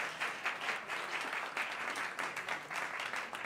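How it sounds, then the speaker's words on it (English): Audience applause at a cabaret fundraiser fills the room, a dense, even patter of many hands clapping, steady and fairly quiet, with no talking. "Major round of applause."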